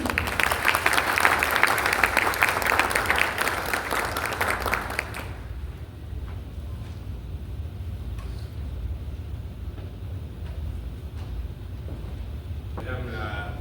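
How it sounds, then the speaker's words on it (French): An audience applauds at a UNAIDS certificate ceremony for 180 children in Haiti, with dense, steady clapping for about five seconds before it abruptly drops away to quiet room noise. "Applaudissez-le, s'il vous plaît."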